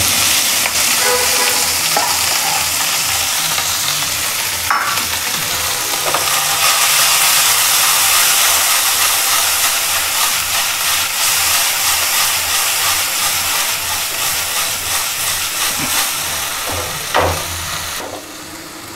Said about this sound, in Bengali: তো এখন যে ওই মাছের মাথাগুলো আছে না, এটা তাকে একটু ভাজলাম